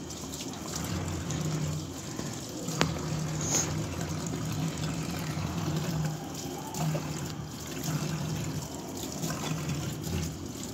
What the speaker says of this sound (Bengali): তো যা যা ছিল সব আমি একটু ধুয়ে নেওয়ার চেষ্টা করছি আজকে